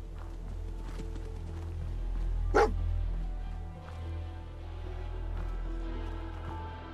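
A dog named Dogmeat gives a single sharp bark in a video game, short and fairly near over a low steady background hum.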